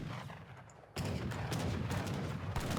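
Cannons boom in an Age of Empires III battle. After a quieter stretch of distant combat, a sudden heavy blast opens a sustained barrage of rapid gunfire and explosions.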